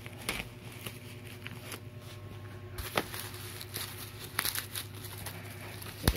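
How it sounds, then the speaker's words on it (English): Bubble wrap wrapped around a new NVision frameless monitor is pulled off and unwrapped, giving soft, irregular crinkles and a few sharper crackles at close range, with no talking. "Bubble wrap."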